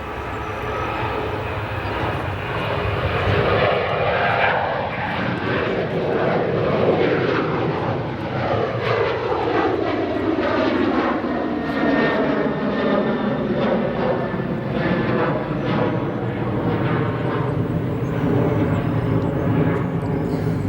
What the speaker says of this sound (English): (737) departing 28 right.